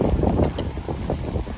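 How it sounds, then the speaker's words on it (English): Strong wind buffets the microphone in loud, uneven gusts, a rough roaring rumble with no other sounds. "Super windy."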